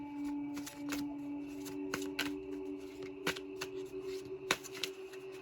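A deck of tarot cards is shuffled by hand at close range, quiet crisp riffles and snaps arriving in irregular bursts over a faint steady background hum.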